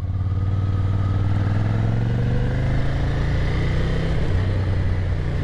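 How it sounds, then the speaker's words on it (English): A Ducati cafe racer motorcycle runs with its exhaust removed, the engine rumbling loud and close in a steady, slightly rising drone with clattery mechanical texture throughout. "Bike sounds good. It's got a couple pops in it."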